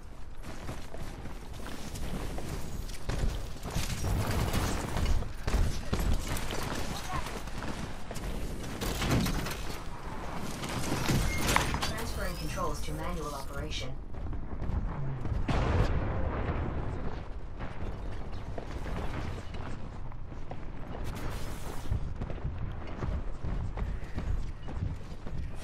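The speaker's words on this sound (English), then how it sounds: "Splitter rifle energized." Splitter rifle firing in Titanfall 2 during a Titan fight, dense loud bursts of energy-weapon shots and explosions running throughout amid heavy mechanical combat noise.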